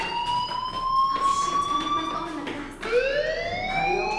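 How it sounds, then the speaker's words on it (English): A fire alarm rings inside the Life Is Strange video game, a loud, steady electronic wail with high tonal bands that sweeps upward, dips briefly near the end, then rises again, continuous throughout. "do you hear that fire alarm? That means you should be outside."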